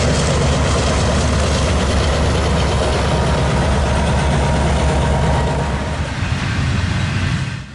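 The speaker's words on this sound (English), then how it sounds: "they had that GE engine wide open for this climb" A BC Rail GE diesel locomotive, the -840 CMU unit number 4610, works at full throttle on a climb, a loud, close, heavy low rumble that holds steady before easing slightly near the end.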